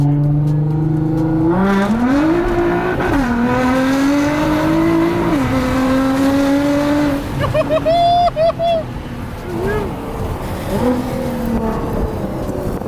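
A Rocket Bunny Nissan GTR R35 running a Cobb Stage 2 tune drives and accelerates, its engine note rising and falling through gears with a revving whine, heard from inside under loud excited talk.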